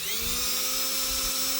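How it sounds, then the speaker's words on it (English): A high-pitched power drill whines steadily and continuously, close by and fairly loud, drilling a hole while installing a light bar on a golf cart, with no talking. "I'm gonna drill a hole right there in the middle, where that hole lines up."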